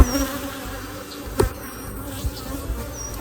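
Honeybees buzz inside a beehive where part of a box serves as a brood chamber, giving a soft, steady hum with a faint whine rising briefly above it.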